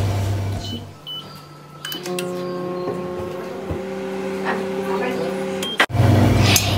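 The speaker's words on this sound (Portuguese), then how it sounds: "Agora é só você levar no micro-ondas por 3 minutos." A microwave oven heats two mug cakes, giving a steady, close electrical hum with a low drone that runs for several seconds and then cuts off with a sharp click.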